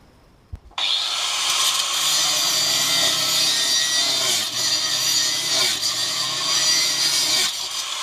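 A saw cuts through a seized, corroded outboard motor tilt tube, starting abruptly after a click and running as steady, loud, rasping strokes with no talk.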